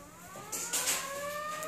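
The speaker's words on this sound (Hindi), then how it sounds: "जमा मस्जिद बाज़ार में उसका सायरन है" A sustained wailing mosque siren at Jama Masjid during Ramadan, slightly wavering, heard from a distance under steady background noise, rising a little in loudness partway through.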